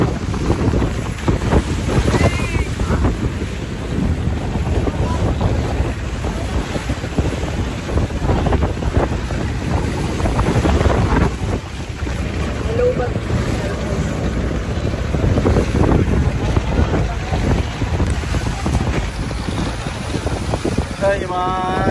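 A boat motor drones steadily near the water at a beach in Matnog, Sorsogon, while wind buffets the microphone and waves wash around; voices speak now and then over the noise.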